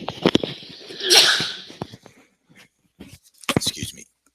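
One close, sharp sneeze from a man bursts out between stretches of his own quiet talking in an indoor room.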